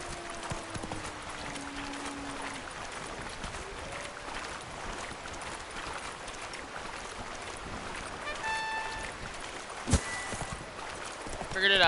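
Roach, a horse, gallops in the video game, a steady rhythmic clip-clop of hooves under a continuous rushing wash of ambient noise, with a sharp clack near the end.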